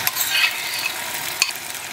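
Raw prawns hit a hot pan of fried ginger and garlic for a Goan prawn potato ambot tik, giving a close, steady sizzle with a brief clatter partway through.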